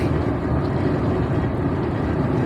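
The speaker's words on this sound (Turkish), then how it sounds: "Çok güzel fırtına rüzgar var." A loud, steady low roar of strong storm wind buffeting, constant and dense throughout with no voices.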